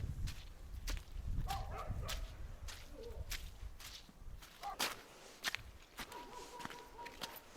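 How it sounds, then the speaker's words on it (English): Dogs bark sporadically in the distance in a desolate area along the Ukrainian-Russian border, sharp isolated yaps over faint outdoor background noise with chickens nearby. "Just hear some dogs and chickens."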